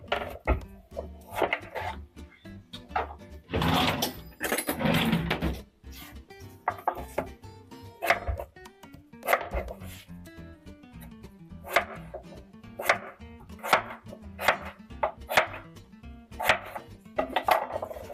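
Potatoes being chopped with a knife on a board, a long run of close, sharp, uneven cutting knocks with a denser clattering patch early on.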